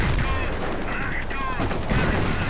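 A 25-pounder artillery barrage in a WWII war video game lands on a Panzer command position, heard as loud, dense booms and gunfire rumble that carry through the whole short stretch.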